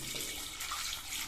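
Water runs steadily into a pressure cooker holding 200 g of washed baby potatoes, a continuous close pouring rush with no pauses.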